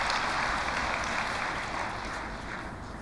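An audience at a religious assembly applauds steadily, a dense, even wash of clapping that holds throughout and fades slightly toward the end.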